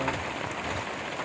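Steady rain falling on a surface, a continuous dense patter with no voices.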